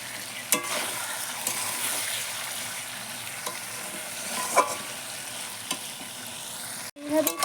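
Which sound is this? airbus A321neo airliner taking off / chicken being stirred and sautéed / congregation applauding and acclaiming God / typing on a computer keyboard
chicken being stirred and sautéed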